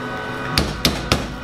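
Three light, evenly spaced taps of a soft hammer seat a magwell onto an Atlas Gunworks v2 grip, each a crisp close knock with a quiet pause between, and no talk.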